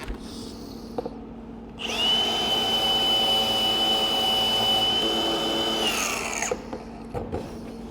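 A Milwaukee grinder fitted with a wire brush spins up to a steady, high-pitched whine while scrubbing cheese off a metal cheese curler, holds for about four seconds, then winds down into quiet handling noise.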